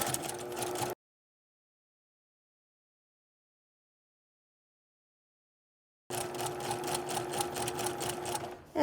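A sewing machine running gathering rows on a puff sleeve, a fast mechanical stitching whir in two short bursts with a long silent gap between them, heard close and fairly quiet.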